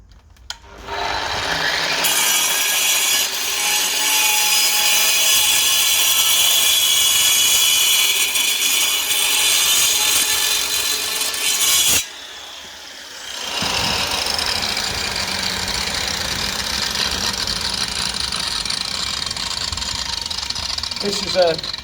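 A hand saw cuts through a drain pipe during a blocked sewer repair, a loud, continuous rasping scrape that runs for about ten seconds, breaks off briefly, then resumes more steadily.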